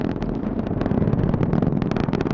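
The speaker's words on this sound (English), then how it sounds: "The 4 core stage engines are back at maximum thrust" Roar of the Artemis 1 rocket's four core stage engines at maximum thrust during launch, a steady, dense rumble with rough crackling texture, loud and continuous throughout without any voices.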